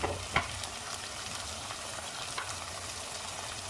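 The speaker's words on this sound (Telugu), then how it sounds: "ఇప్పుడు దీంట్లోకి మనము అల్లం వెల్లుల్లి పేస్ట్ మంచిగా ఫ్రై అయింది" Ginger garlic paste sizzles steadily in hot oil in a pan for a small-fish curry, with a few sharp spoon scrapes as it is stirred, close and unbroken.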